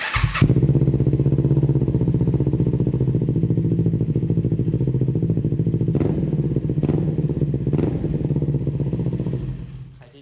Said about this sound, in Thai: เดี๋ยวผมสตาร์ทฟังเครื่องเนาะเครื่องนิ่มๆเลยครับเดี๋ยวเสียงดังหน่อยเนาะ